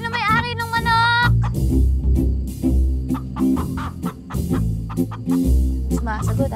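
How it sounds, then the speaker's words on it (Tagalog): Chicken clucking in short repeated bursts, close and loud, mixed with other sounds and a brief high squawk at the start. "Uy, manok!"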